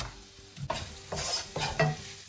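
Chopped fresh spinach being stirred into onions frying in a pan: a few scraping, rustling stirs over a soft sizzle, close and moderately loud, with no talking.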